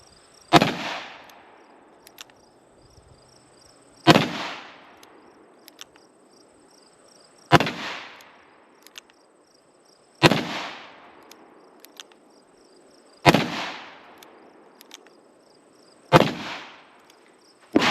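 A .454 Casull revolver fires six loud, sharp shots spaced about three seconds apart, each blast trailing off into a short echo, with crickets chirping faintly outdoors between shots.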